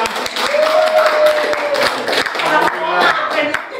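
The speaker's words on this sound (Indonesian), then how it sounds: "Kita beri aplaus dulu untuk kita semua" Audience clapping fills a teacher-training session room: steady, fairly loud applause from a group with voices mixed in over the claps.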